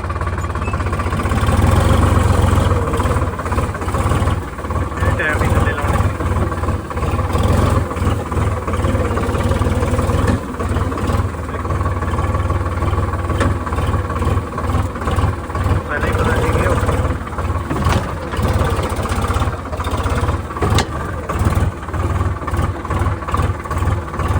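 A tractor engine runs steadily at a loud, close idle-like drone throughout, with a low rumble and rhythmic pulsing under ongoing talk during wheat field work.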